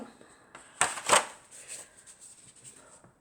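Personal development game cards are handled close by: two quick riffling bursts, then soft papery rustling that fades. No one speaks.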